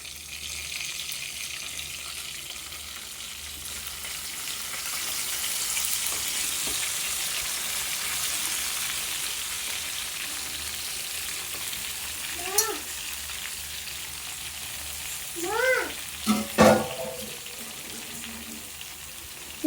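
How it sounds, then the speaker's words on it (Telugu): Stuffed brinjals fry in garlic chilli masala with a continuous, moderately loud sizzle and hiss, stirred occasionally, while a few brief rising chirps sound faintly in the background. "అక్కడ వంకాయలు అయితే కుక్ అవుతున్నాయండి"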